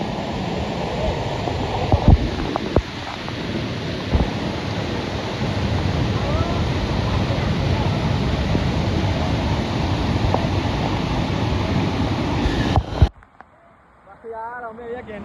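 Rain-fed water pours hard down a hillside at Devmogra, a loud, continuous broadband rush close by, with a few knocks along the way, cutting off abruptly near the end.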